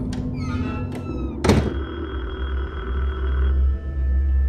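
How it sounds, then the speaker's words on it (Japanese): Door unlocked with a key in the Taiwanese school horror game Detention, set in the 1960s: a few light metallic clicks, then a single solid thunk of the door, over a low steady ambient drone. "鍵を使って開けます。"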